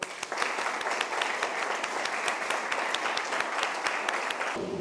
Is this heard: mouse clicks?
no